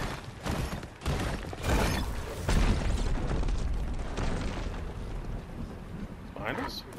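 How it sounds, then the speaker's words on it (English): Gunfire and explosions in the Fortnite video game crack and boom in a run of sharp bursts and heavy blasts, dense and fairly loud, with a voice talking over the action. "They're shooting in the town."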